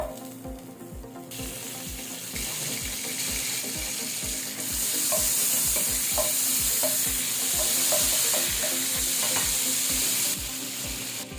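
Margarine melting in a heated pan on the stove, a steady close sizzle and crackle with faint clinks and stirring scrapes, continuing throughout with no voices.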